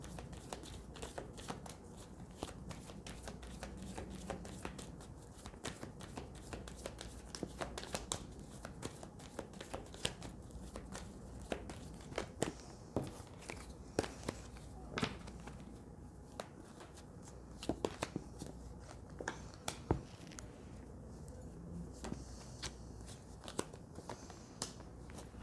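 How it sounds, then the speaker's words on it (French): Oracle cards from an angels of love deck being shuffled and drawn by hand, a steady run of quick papery flicks and riffles close up, quiet and without talk. "je vais tirer 2 cartes de les anges de l'amour pour vous"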